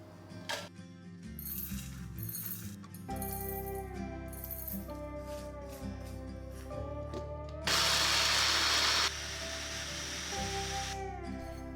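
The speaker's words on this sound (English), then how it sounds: "Grind the mix coarsely," A mixer grinder coarsely grinds a spice podi mix with salt, turmeric and hing, its motor whirring and rattling in several close, loud bursts separated by brief pauses, with one harsher, noisier burst near the end.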